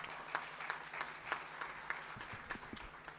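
Applause from a seated audience at a GST audit and returns seminar, a faint, scattered patter of hands clapping at a distance for about three seconds with no talk over it.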